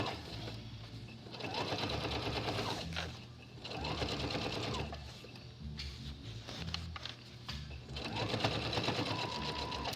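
A sewing machine stitches through the bulky side seams of a fabric tote bag in a fast, steady whir. It runs in three long bursts with brief slowdowns between them, close and clear.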